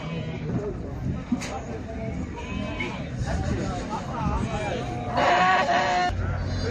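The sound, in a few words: sheep bleating at livestock market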